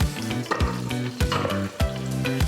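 Palm oil stew for Ghanaian palava sauce sizzles in a pot while a spoon stirs it, giving repeated scraping strokes in a steady rhythm. The sound is close and clear with no talking.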